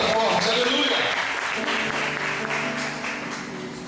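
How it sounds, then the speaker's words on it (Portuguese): At a church worship service, the congregation breaks into loud, sustained clapping that slowly fades, with voices calling out over it. "Glória a Deus, aplauda forte,"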